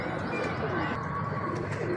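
A Royal Taddy pigeon coos softly and steadily, a low rolling murmur close by, with faint background noise.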